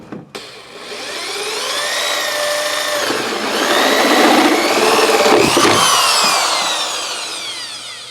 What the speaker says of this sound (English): So let's go ahead and drill this.